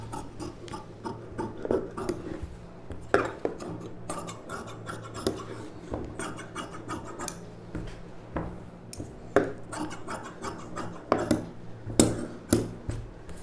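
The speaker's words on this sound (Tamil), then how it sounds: "இதை வந்து நம்ம அப்படியே இந்த ஷேப்பை கட் பண்ணிக்கலாம்" Scissors cutting pattu silk saree blouse fabric along a marked shape, giving repeated close crisp snips and rasping slides of blades through cloth with light handling noise in between.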